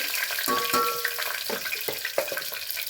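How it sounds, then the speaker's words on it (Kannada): Star anise, kasuri methi and bay leaf frying in hot oil, a loud continuous sizzle close by with several clinks and scrapes of stirring against the pan. "ಇದನ್ನು ಹಾಕಿ ಸ್ವಲ್ಪ ಹೊತ್ತು ಈ ಥರ ಫ್ರೈ ಮಾಡಿ."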